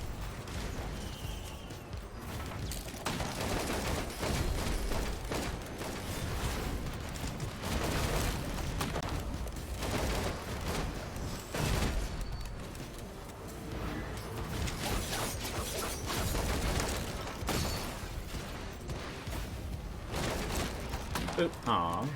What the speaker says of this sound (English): Loads of fireworks.